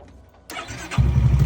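A starter whirs briefly, then a 344cc motorcycle engine catches and settles into a loud, throbbing idle close by.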